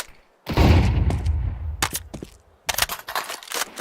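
Flashbang thrown in Counter-Strike 2: a loud burst with a sustained roar in the first seconds, followed by sharp cracks and clicks of gunfire and game effects, with no talk.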